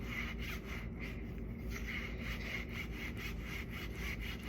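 A knife saws back and forth through rolled pork belly to divide it into three pieces, giving a steady, fairly quiet run of repeated rasping strokes.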